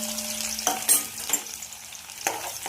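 Onion frying in hot oil with cumin in a kadhai for a harbhara bhaji: a steady close sizzle with a few sharp stirring clatters as the pieces are moved, no talk.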